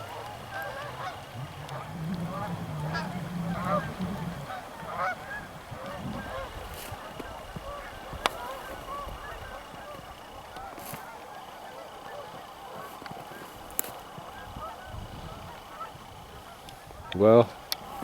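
Snow geese honk in scattered calls from a middle distance amid a low background hum, with a sharper nearby honk close to the end.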